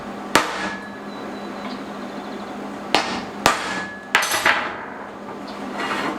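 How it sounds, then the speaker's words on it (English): A hammer strikes a chisel to mark metal at a blacksmith's forge. Four or five sharp ringing metallic blows come at uneven gaps, close and loud, and each leaves a short ring behind it. "the reason why I'm marking this with a chisel is so the mark will show up when it's in the forge"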